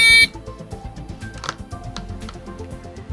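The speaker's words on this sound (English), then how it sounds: "Did you test the button with the buzzer?" A short, harsh buzz from a littleBits electronic buzzer sounds at the start, then gives way to quiet clicks and soft background music.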